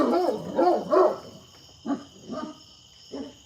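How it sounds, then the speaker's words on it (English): Several barks from a dog on a farm come in two loose bursts, the first three close together and fairly loud, then a gap and three more spaced, slightly softer barks, with a steady high insect-like drone running underneath. "that dog is on my nerves today"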